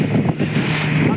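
Fishing boat heading out to sea before dawn under moonlight, a steady low engine rumble mixed with wind buffeting and water rush, loud and close over one short continuous stretch.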